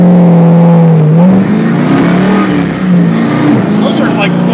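Factory Five GTM mid-engine car revving at quarter throttle, a loud close engine whose pitch climbs and dips through several steady pulls, with a voice talking over it.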